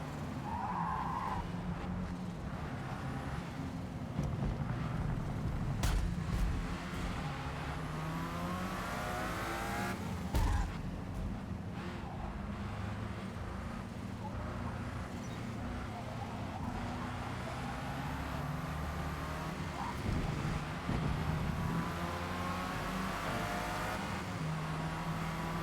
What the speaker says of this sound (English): those two cars next to me sound almost like they have a rotary engine